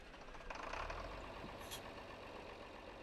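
A tractor engine idles in Farming Simulator 22, a steady low rumble that holds at an even level throughout, with a brief hiss partway through and no talking.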